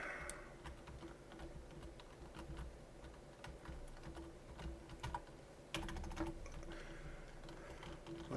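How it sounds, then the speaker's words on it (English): Rapid, irregular clatter of computer keyboard keys being mashed during a Kerbal Space Program session, close and fairly quiet, with a steady hum beneath and a brief louder burst near the end. "You hear me mashing my keys here."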